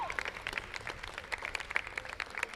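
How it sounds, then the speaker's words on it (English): A crowd applauds the Windward Islands women's cricket team at a Senior Women T20 tournament final ceremony, with steady dense clapping throughout, lively and moderately loud. "Round of applause for our Windward Islands ladies team."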